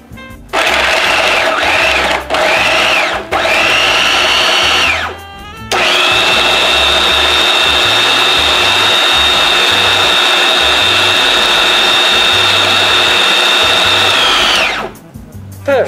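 A blender grinding onion, zucchini, carrots, peppers and spinach, a loud high-pitched motor whine that starts, stutters in short bursts, then runs steadily for about ten seconds before stopping.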